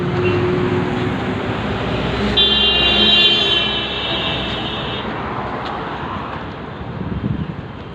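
Riding along a highway, a vehicle's steady road and wind rumble fills the scene, with a brief horn toot partway through and passing traffic swelling near the end.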